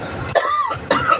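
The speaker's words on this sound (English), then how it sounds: "It makes me cough." Two sharp, close coughs from a person chilled by cold car air conditioning, each a quick harsh burst with a short pause between, loud and alone without speech.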